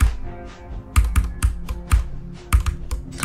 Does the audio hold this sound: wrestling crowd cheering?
no